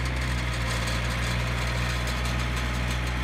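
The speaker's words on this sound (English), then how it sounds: "Put throttle up." A post hole auger engine runs at raised throttle after repair, a loud continuous droning hum with steady vibration and no change in pitch, close by.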